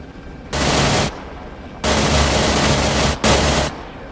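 Bursts of automatic gunfire from weapons firing at targets on a range, three sustained volleys, loud and close, separated by short pauses with a steady background hiss.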